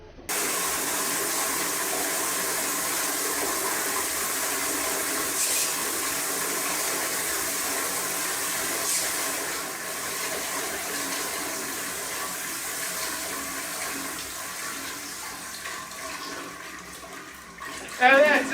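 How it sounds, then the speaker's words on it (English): A toilet flushes with a long, loud, steady rush of water that keeps gushing for well over fifteen seconds before tapering off, with a brief knock at the end. "Now that's a man's flush."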